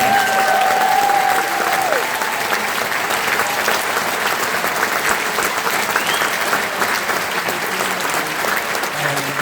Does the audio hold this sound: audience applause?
yes